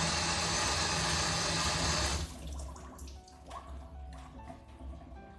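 Vegetables washed under running water: a loud, steady stream pours for about two seconds, then stops, followed by wet handling, drips and light clattering up close.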